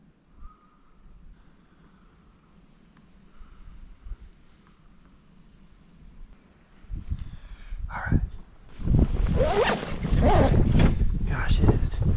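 Strong wind buffets the microphone outdoors on a Midwest whitetail bow hunting trip, quiet at first, then growing into loud gusting roars toward the end, with a person speaking partway through.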